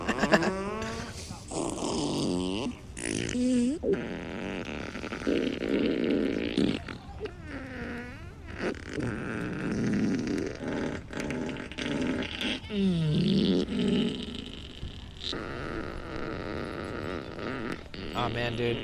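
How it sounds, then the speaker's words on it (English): Fart sounds played from a loud portable speaker outdoors in Mission Dolores Park, San Francisco, a string of blurting, rumbling bursts of varying length among park ambience, with someone talking intermittently. "everybody literally probably thinks I'm just sitting here farting"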